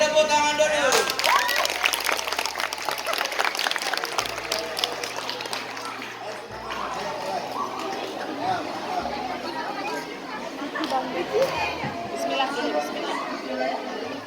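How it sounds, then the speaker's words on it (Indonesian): An elementary school audience at a morning dhuha gathering claps, the scattered claps running through a steady hum of children's chatter and crowd voices, with the clapping strongest early on and fading into the background noise. "Kasih tepuk tangan dulu."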